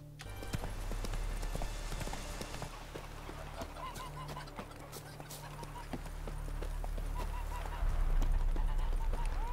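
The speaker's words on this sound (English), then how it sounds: "Look at the geese." Geese honk in the Witcher 3 video game, with repeated short calls over a busy game soundscape of hoofbeat-like clops and ambient noise, steady and fairly loud throughout.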